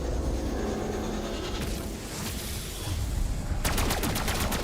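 Feng 82 gun firing in the video game Black Ops 6, a long sustained automatic burst of loud, rapid shots, ending in a distinct run of fast, evenly spaced cracks.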